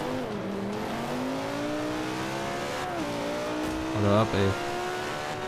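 A race car drifts in Forza Motorsport 5, its engine droning steadily with shifting pitch and a brief tire squeal, while someone talks briefly over it.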